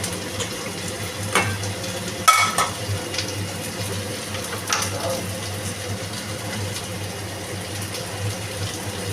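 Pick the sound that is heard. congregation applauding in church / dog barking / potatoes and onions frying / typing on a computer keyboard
potatoes and onions frying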